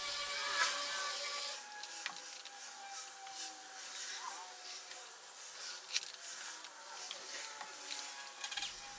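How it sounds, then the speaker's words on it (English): Wet sanding of a Lamborghini Huracan hood with a 4000 grit 3-inch sanding disc, a steady buzzing machine whine with soft rubbing and rasping, fairly faint and continuous. "Afterwards, I went over with it with a 4000 grit sanding disc with 3-inch"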